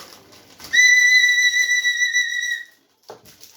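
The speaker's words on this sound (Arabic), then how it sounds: "صفارة برضه" A single shrill toy whistle blast, steady and close, lasting about two seconds, followed by a brief soft sound.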